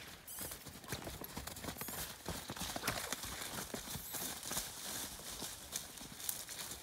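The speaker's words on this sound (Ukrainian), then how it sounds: "Дякую Дмитрові за те, що показав коні." Steady clip-clop of heavy draft horse mares' hooves walking on a hard surface in the Kolomyia area of Ukraine, continuous and fairly close, with a faint background hiss and no talk.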